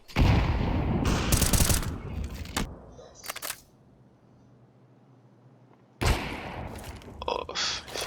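Gunfire in the Counter-Strike video game on the Anubis map, sharp dense bursts at the start and again near the end, with a quiet gap between them.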